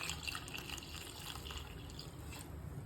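Mutton cooking water being poured into a curry, a steady close liquid pouring and splashing sound with faint dripping throughout, no voices.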